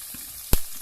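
Curry leaves and cloves fry in hot oil with a soft, steady sizzle and one sharp crackle partway through.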